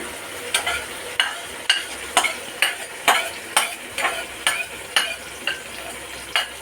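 Cooked vegetables are stirred into a frying tomato mixture in a pan, a regular series of about a dozen close, crisp stirring scrapes over a soft sizzle, with no talk.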